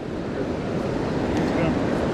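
Ocean surf on an Oregon coast beach during razor clam digging, a steady broad wash of breaking waves with wind buffeting the microphone, fairly loud and continuous.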